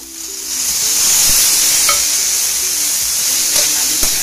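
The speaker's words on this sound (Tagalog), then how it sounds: "Pwede na natin guys ihulog yung ating pinalambot na kaming baka" Softened beef goes into a hot pan for a coconut-milk beef curry, and a loud, continuous sizzle builds over the first second and holds steady, close up, with faint clinks over it and no speech.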